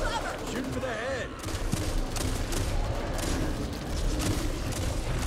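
Gunfire in the Back 4 Blood video game crackles steadily at moderate level throughout, mixed with other game noise and occasional voices.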